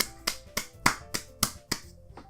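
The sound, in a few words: applause in the video game Doki Doki Literature Club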